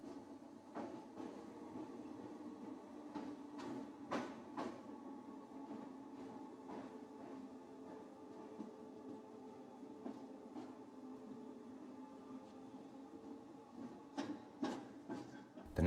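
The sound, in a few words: underground train entering Liverpool Central Station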